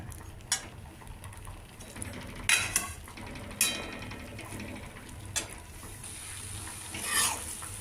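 A brinjal, sweet potato and tomato curry being stirred in a pan: a low simmering sizzle with repeated scraping and clinking of a spoon against the pan at an uneven pace.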